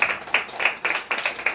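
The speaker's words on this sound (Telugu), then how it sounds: "చప్పట్లు కొడదాం దేనికి" A church congregation claps during a Sunday sermon, a run of about six quick, evenly spaced claps, close and fairly loud, with no talking.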